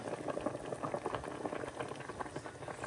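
A pot of cauliflower curry with tomato simmers, giving a soft, steady bubbling close by with no voices over it.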